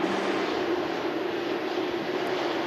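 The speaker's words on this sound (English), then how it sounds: "Virgin Atlantic just arriving in from the Caribbean, from Bridgetown." A Virgin Atlantic airliner arriving at Manchester Airport in thick fog from Bridgetown, a steady loud jet engine roar with a sustained tonal hum, close and continuous with no talk.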